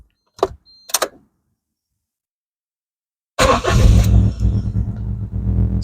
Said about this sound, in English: I'll just start the car up now